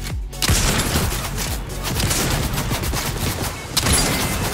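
Rapid bursts of automatic gunfire in the Fortnite video game, dense and loud, with a sharp blast at the start and another flurry near the end, no voices over it.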